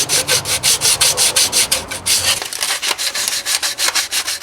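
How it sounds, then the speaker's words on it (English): Sandpaper scrubbing old gasket material off a Dodge Ram water pump mating surface, a fast, steady back-and-forth rasping rhythm of close, loud strokes, no talking. "I used sandpaper to get all the old gasket off"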